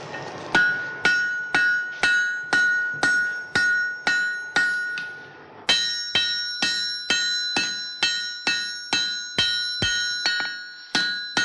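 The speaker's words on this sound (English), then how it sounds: "We're going to bring it out and forge weld it together." Hammer blows on hot wrought iron during forge welding, a steady series of loud, ringing metallic strikes about twice a second, each with a bright decaying ring, close and unaccompanied by talk.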